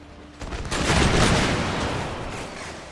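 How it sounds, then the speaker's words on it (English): Musket volley fire in a battle in the strategy game Empire Total War: a dense, crackling burst of many shots along a line of troops, swelling quickly then rumbling and fading over a few seconds. "Good fire all along the entire line."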